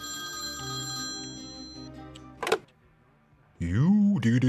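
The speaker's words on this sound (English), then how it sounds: "Alright, go answer the phone." An old-style telephone bell rings in the Priest Simulator video game, a bright sustained trill that fades, followed by a brief click and then someone speaking.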